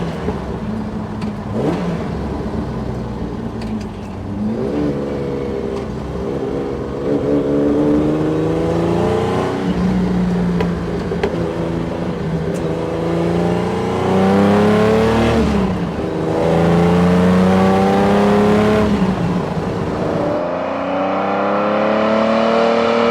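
Lightweight Jaguar E-Type engine accelerating hard, its tone climbing steadily through the revs before dropping at each upshift, with repeated rising sweeps loud and close throughout, no talking.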